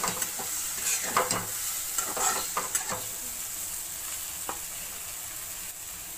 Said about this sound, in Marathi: त्याच्यानंतर आपण भाजलेली गवार टाकून घ्यायची आहे। छान असं आता आपण ह्याला एकजीव करून घ्यायचं आहे